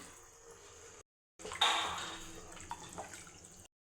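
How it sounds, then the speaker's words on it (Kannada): Water is poured into a pot of rice being cooked for kushka rice. After a short pause, a close splashing pour swells and gradually tapers off, with a few small clinks, then stops. "ಇವಾಗ ನೀರು ಹಾಕ್ಕೊತಾ ಇದ್ದೀನಿ ನಾನು"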